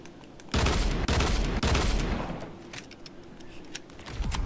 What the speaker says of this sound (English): Dual pistols. My favorite. Take these bad boys.